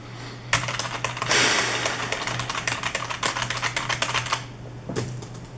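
Rapid clacking keystrokes on an old PS/2 computer keyboard, close and fairly loud, with bursts of fast typing broken by short pauses and a steady low hum underneath.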